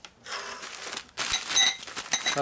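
Crinkly plastic rustling and crunching in two bursts, close and fairly loud, with brief clinks mixed in.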